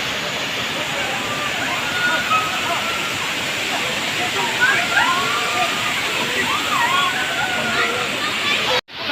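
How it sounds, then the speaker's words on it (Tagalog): Tagbibinta Falls at a mountain resort in Maragusan, Davao de Oro, where many people are bathing, pours with a continuous, close rushing roar of falling water, with faint activity above it and an abrupt cut at the end. "Ito na ang Talon, mga kamispa, o Falls. Tagbibenta Falls."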